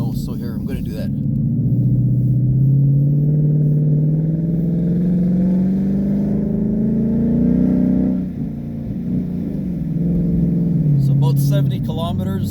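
A 2016 Ford Mustang GT on Bridgestone Blizzak WS90 tires in deep snow, its V8 engine droning and rising in pitch under sustained throttle as the wheels spin, loud and close, with a voice briefly heard at the start and end.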